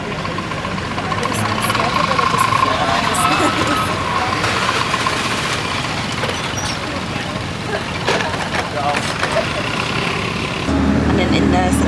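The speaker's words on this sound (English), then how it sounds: "this bus sounds like it's never going to make it" A bus engine labors and rumbles with steady rough vibration and road noise throughout the ride, loud and close from inside the cabin, with occasional rattles.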